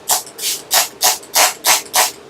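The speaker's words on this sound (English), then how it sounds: "Okay, so we're just going to spray this." Seven quick bursts of a spray bottle misting in a steady rhythm, each a loud, close hiss separated by short pauses.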